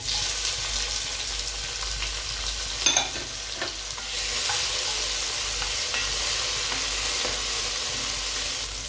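Tomato and ginger fry in a pan for biryani, a loud, steady sizzle heard close that swells brighter partway through, with a few light stirring taps and no talking.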